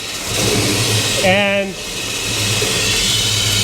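A car engine idling after tuning of a new carburetor, a steady mid-range rumble throughout while someone talks briefly over it.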